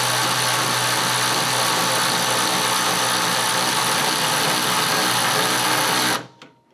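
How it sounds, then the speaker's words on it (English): An electric ratchet drives a spring compressor on the front fork of a 2004 Harley-Davidson FXDXI Dyna, a loud continuous mechanical whir running steadily before cutting off abruptly near the end. "it's gonna be hard to hear me over the electric ratchet"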